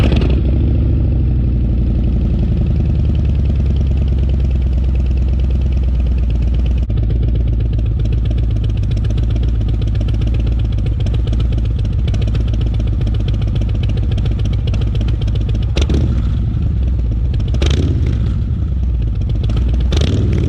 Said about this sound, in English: I wanted that low rumble, so Vance & Hines was the only way to go for me